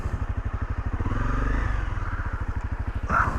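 A dual sport motorcycle idles and creeps forward with a close, steady chugging beat that swells briefly as it rides over fallen tree debris, ending in a short clatter.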